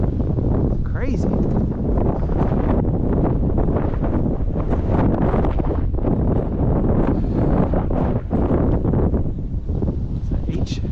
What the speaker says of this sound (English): Wind subsides soon. Turn around in a couple more minutes anyway. It's wind. It's crazy.